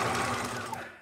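A sewing machine stitching a pin cushion, a close, fast rhythmic whir that runs briefly and winds down at the end.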